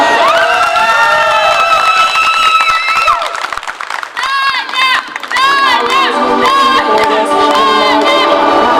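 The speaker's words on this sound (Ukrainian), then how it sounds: "Ваші оплески! Тетяна!" At a karaoke contest, an audience cheers loudly, with whoops, high shouts and clapping rising in waves around a contestant's introduction, the crowd noise dense and close, dipping briefly midway before swelling again.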